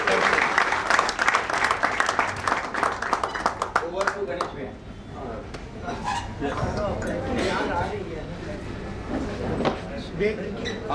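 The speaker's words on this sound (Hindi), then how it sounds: "हम सबकी ताली सबके लिए" Applause from a crowd at a party workers' training camp, dense sustained clapping that swells loudly then thins, with scattered voices and room clatter underneath.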